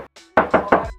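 A Toyota Agya Sportivo's metal hood is knocked with a fist, one light tap followed by three louder hollow knocks in a quick, even rhythm, close up and with no talking.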